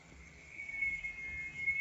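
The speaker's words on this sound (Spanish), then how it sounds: "¿Escuchan las chicharras?" Cicadas sing outdoors as a thin, steady, high-pitched buzzing drone, heard faintly at a distance and holding evenly without pause.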